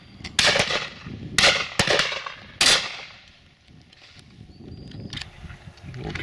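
Shotgun shots at a pheasant and partridge shoot: four sharp, loud outdoor reports in quick irregular succession, then a quieter stretch with faint ambient rustle and a thin high tone.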